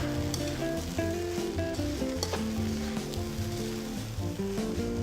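Brown rice fries and gets tossed in a pan during a cooking demonstration with a Belgian Greenpan, a steady soft sizzle and stir running under background music throughout.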